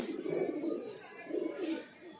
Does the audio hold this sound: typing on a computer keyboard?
no